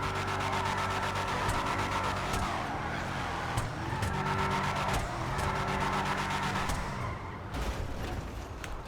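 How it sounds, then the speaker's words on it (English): The Drift Yosemite truck in GTA 5 drifts with a steady, buzzing engine drone and shifting revs, punctuated by sharp clicks and brief changes in pitch, continuous and close throughout. "This truck just makes you look a bit better at drifting."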